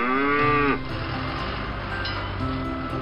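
A single low, drawn-out moo from a cartoon cow, followed by a steady background hum with faint tonal sounds.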